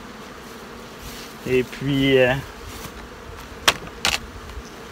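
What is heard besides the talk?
honeybees on a hive frame during inspection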